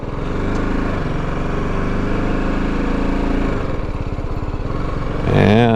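A BMW G 310GS motorcycle engine runs steadily at slow speed in first gear, close and loud with a continuous low throb, then briefly revs higher near the end.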